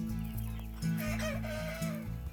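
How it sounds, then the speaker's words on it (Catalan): Penedès chickens cluck and a rooster crows on a farm, heard over a steady low hum and background noise. "Soc criadora de gall del Penedès, tenim la granja aquí d'Igall"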